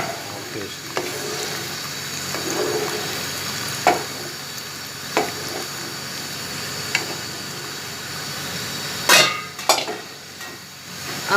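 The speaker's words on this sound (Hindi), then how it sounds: "साथ चम्मच चलाऊँगी।" A spoon stirs chicken nihari in a cooking pot, scraping and clinking sharply every second or two over a steady simmering sizzle, with a louder cluster of scrapes near the end.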